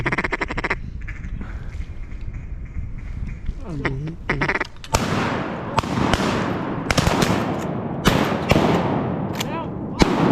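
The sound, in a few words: shotgun gunshots while duck hunting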